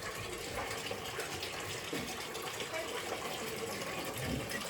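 Steady gushing and splashing water, as from a tap or bucket pouring during bathing, continuous and fairly close with small clatters underneath.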